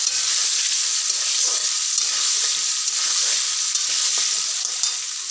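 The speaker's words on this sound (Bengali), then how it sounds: "আলুটা ভাজতে দিলাম" Potatoes frying in a pan make a loud, continuous hiss of hot oil that holds steady for several seconds, with no voices over it.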